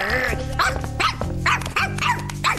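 Cartoon dog growling and barking in repeated bursts, close and loud, with a soft musical bed underneath.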